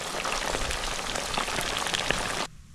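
Grouper throat fries in hot oil at 350 degrees, a dense, loud crackling sizzle like heavy rain that runs steadily, then cuts off abruptly near the end.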